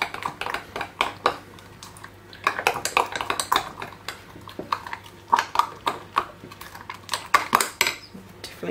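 Salt being mixed into tomato sauce in a bowl: a utensil scrapes and clinks against the bowl in quick, irregular bursts, close and fairly loud, with brief pauses between strokes.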